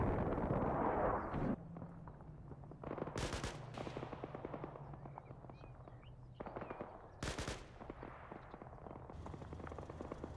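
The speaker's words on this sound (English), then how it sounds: "we're going to start dropping mortars on the south bridge as well" Mortar rounds and gunfire in the Combat Mission Cold War strategy game, with two loud, sharp blasts rising over a low rumble of battle and scattered distant shots.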